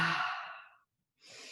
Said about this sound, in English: sometimes it's good to breathe in and ha